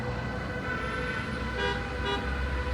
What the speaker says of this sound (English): It's the sound of Romanian traffic, that noise.